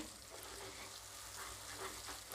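Tamarind chutney being stirred while it cooks in oil, a soft continuous sizzle with faint scraping from the stirring, quiet and steady.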